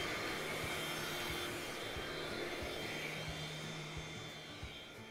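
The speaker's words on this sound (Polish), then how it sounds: "możemy zanurkować odkurzaczem pod szafkami i dokładnie widzimy każdy okruch do sprzątnięcia" A Philips FC6729 cordless mopping vacuum cleaner runs with a steady, close motor whine and airy rush, holding constant and easing off slightly at the end.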